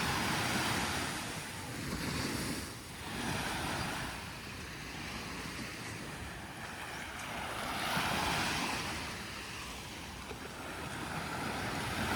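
Waves at high tide roll onto the beach at San Fernando, La Union, in a continuous, distant-sounding roar that swells and eases slowly, with gusts of wind buffeting the microphone.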